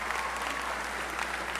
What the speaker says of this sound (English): Applaud that, that's very good.